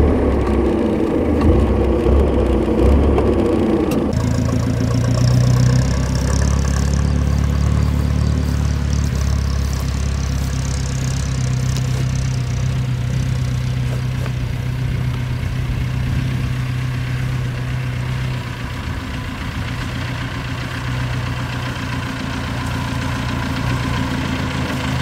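A 1924 Bentley 3 Litre engine settles into a steady, deep idle right after starting, with a brief rougher burst at the very beginning and then an even low rumble that runs on alone.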